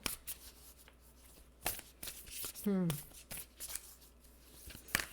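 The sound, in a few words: shuffling Angels and Ancestors oracle cards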